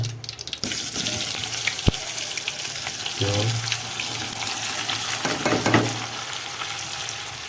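Spiny gourds (kantola) drop into hot oil with crackling mustard and cumin seeds, a strong steady sizzle close by with a few clanks and stirring scrapes along the way.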